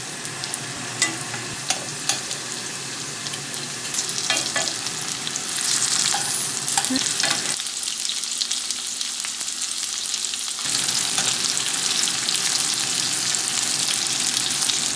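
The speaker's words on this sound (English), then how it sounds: "in the hot pan, I'm gonna add some olive oil, add the salmon" Salmon sizzles in olive oil in a hot pan on medium heat, a loud, steady frying hiss with occasional pops and stirring scrapes that runs throughout without speech.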